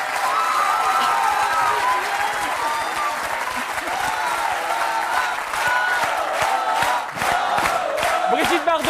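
An audience applauds Brigitte Bardot on a 2003 French television set, with steady, dense clapping and a few cheers and whoops that carry through all nine seconds.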